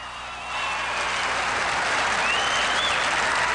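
Crowd applauding at a 1981 German Shepherd Dog national show in Tulsa, swelling after half a second into sustained, dense clapping that stays steady and fills the space.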